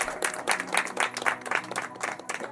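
A church congregation claps in applause at an anniversary celebration, a dense, steady patter of many hands, moderately loud and sustained throughout.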